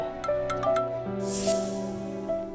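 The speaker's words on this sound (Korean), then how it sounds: "성우 씨 전화네요" A mobile phone ringtone plays as a steady electronic melody of sustained tones with a few brighter accents, near and clear for the whole stretch, with a brief soft rushing noise partway through.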